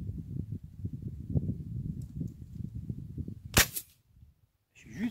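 A single sharp crack from an airsoft gun firing a 0.45 gram pellet cuts through a low rumbling background, followed by a brief hush and then faint rustling.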